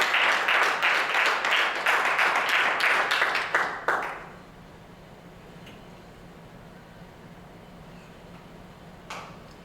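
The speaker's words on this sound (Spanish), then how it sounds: "Démosle fuertes palmas al Rey Todopoderoso, al Creador de la vida." A church congregation claps loudly and steadily for several seconds, the applause ending abruptly around the midpoint and leaving a quiet room with faint background noise and a single later tap.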